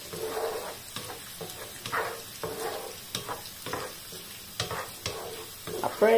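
Garlic sizzles in a hot pan for sardine fried rice, the frying hiss broken by repeated scraping strokes of a spatula stirring at an uneven rhythm, close and fairly loud with no talking.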